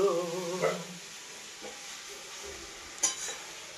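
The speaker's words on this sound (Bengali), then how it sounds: "এইভাবে এখন আমি কিছুক্ষণ ভাজবো।" Mutton curry fries in a pan with a low steady sizzle, broken by a few faint stirring scrapes and one sharper knock late on; a brief tonal sound, like distant music, fades out at the start.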